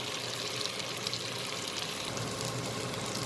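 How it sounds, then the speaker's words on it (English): Brinjal and potato bhaji frying in a pan over a raised flame, a continuous dense hiss and sizzle, close and fairly loud, with no voices. "I'll fry till it gets completely cooked and all the spices get blended to it"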